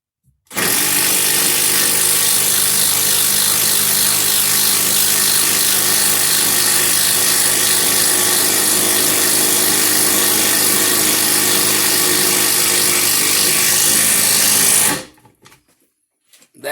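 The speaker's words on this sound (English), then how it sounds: "show you what the Bosch 12-volt brushless impact driver can do" Bosch 12-volt brushless impact driver running free in speed 2 at about 2600 RPM, a steady loud high-pitched whine held without a break for roughly fourteen seconds before cutting off.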